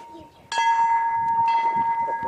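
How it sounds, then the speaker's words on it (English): A historic bell at Eastchurch rings out ceremonially with a clear sustained metallic tone, struck twice in close succession, close by and resonant. "So, we can have a ceremonial ringing of the bell."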